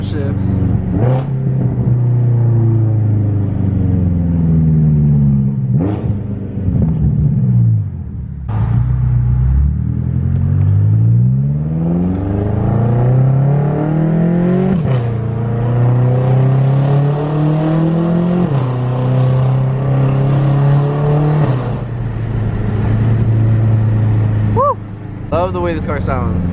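A BMW F10 M5's exhaust barks and burbles through repeated downshifts, revs rising and falling in several swoops over a deep, loud, continuous engine rumble heard up close.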